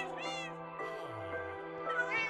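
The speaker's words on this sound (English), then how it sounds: "I've just like bred a bunch of cats from those" Several cats in the video game Minecraft meow repeatedly, high tonal calls rising and falling over a dense bed of in-game music, steady and fairly loud throughout.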